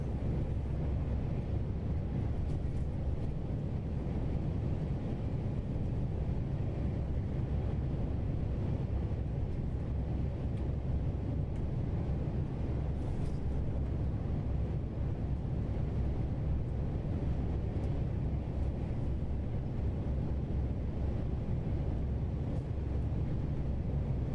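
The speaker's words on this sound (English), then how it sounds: "We're just running a remake of the PACCAR MX engine sounds from Slab Jerry." A PACCAR MX truck engine in American Truck Simulator, running a remade sound mod, gives a steady low rumbling drone without a break, loud and even throughout with no talk.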